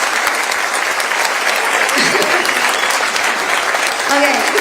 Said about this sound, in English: Can we please clap for the employees?